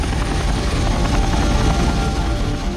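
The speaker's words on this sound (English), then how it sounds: "the helicopters flew more than 500 miles into Iran" Military helicopters flying low over Iran from an aircraft carrier produce a loud, continuous rotor and engine roar with rapid blade thumping, steady and close throughout, with no voices.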